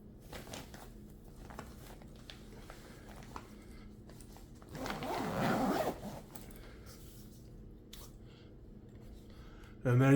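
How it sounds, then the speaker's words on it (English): A bag being zipped shut produces one quick, close rasping zip in the middle, set against quiet handling noises and a sharp clunk at the very end. "Zip the bag up."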